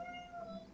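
A voice imitates a cat with one short, drawn-out meow, quiet and brief.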